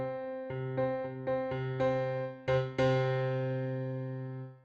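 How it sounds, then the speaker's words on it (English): Piano notes struck in succession and then together as octaves, several separate attacks with rich harmonics, the last chord ringing out and slowly decaying, close and clear with no voices. "The most consonant you can get on a piano is something called an octave."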